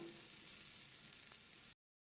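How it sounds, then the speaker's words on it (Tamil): Homemade masala curry for a village-style egg gravy bubbling and sizzling steadily in a pan, a close, even, fairly quiet hiss of frying and simmering that cuts off abruptly. "நல்லா மசாலா கொதிக்க ஆரம்பிச்சிருச்சு."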